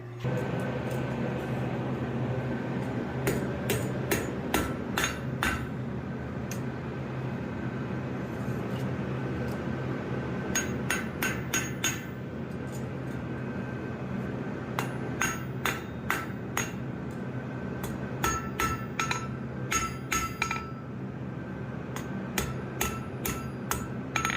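A blacksmith forges a lizard from a steel block, ringing hammer blows falling in quick bursts and clusters with pauses between, close and sharp over a steady workshop hum, with no talking.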